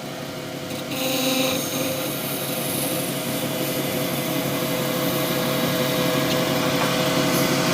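A wood lathe spins steadily while a tool tidies the bottom of a resin shaving brush handle, giving a continuous loud whirring hum with faint scraping, and no talking.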